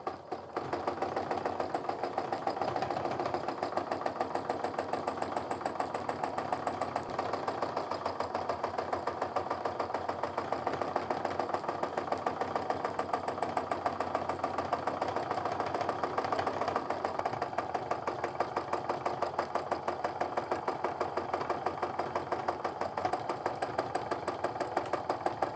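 Sewing machine free-motion quilting swirls on a charm pack Christmas stocking, a steady, even mechanical whir running continuously at moderate volume, heard alone.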